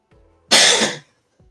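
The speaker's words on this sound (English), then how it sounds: "I've been wanting to cough like that." One loud, harsh cough from a person close to the microphone, a single burst lasting about half a second between quiet breaths.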